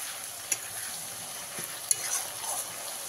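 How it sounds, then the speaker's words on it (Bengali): Ginger-garlic paste stirred and fried in a pan alongside onions turning reddish-brown, a steady low sizzle with a couple of sharp spoon scrapes, fairly quiet and with no talking. "এবারে এর মধ্যে আমি 2 চামচ আদা রসুন বাটা দিয়ে দেবো, দিয়ে ভালো করে মিশিয়ে নেব।"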